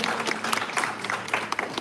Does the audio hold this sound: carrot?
no